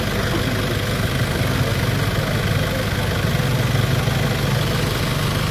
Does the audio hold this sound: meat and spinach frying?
no